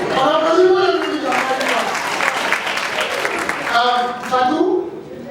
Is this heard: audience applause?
yes